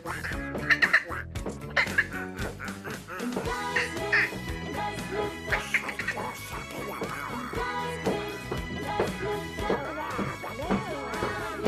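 Repeated cartoonish duck quacks as a comic sound effect on a morning talk radio show, punchy and loud, mixed with crashing hits and jingle-like music.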